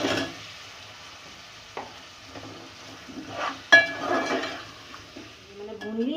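Green chillies and potatoes tossed into a cooking pot and stirred with a spoon, soft scraping and sizzling with a few metallic clinks against the pot, close and fairly quiet.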